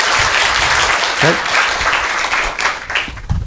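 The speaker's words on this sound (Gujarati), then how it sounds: "તો દમદાર તાળી પાડો, પાડો તો પછી દમદાર પાડો." A hall audience at a leadership development program claps in a dense, loud, sustained round of applause, with a voice briefly audible amid the clapping.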